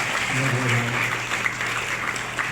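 Applause for Doctor Kundaliya at a Kapadwanj Kelavani Mandal Foundation gathering marking a new chapter for Dani College: a steady, dense crowd clapping that holds at an even level throughout, with faint voices beneath.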